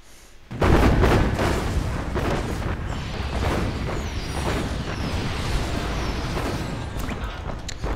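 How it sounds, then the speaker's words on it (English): Artillery in the strategy game Planetary Annihilation pounds buildings with a dense, continuous barrage of booms and rumbling blasts that begins abruptly and stays loud throughout, no voices over it. "I've got the feeling that artillery is working better now. As in, they actually shoot buildings"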